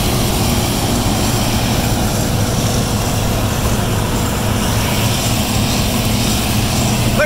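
A Fendt tractor pulling a 1980 spreader across a field, its engine a loud, continuous droning roar close by, with no breaks or talk.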